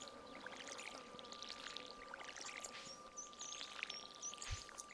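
Watering crops with a watering can in Stardew Valley, a soft continuous pouring trickle under faint chirping bird and insect ambience, fairly quiet throughout.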